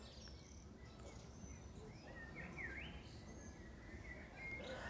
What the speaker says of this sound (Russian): А птицы как поют, просто заливаются.